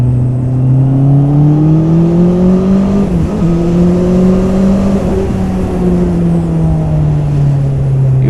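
A 2021 Honda CB650R motorcycle runs on a race track, its engine holding a loud steady tone with a couple of quick shifts and revs rising and dipping, heard close throughout.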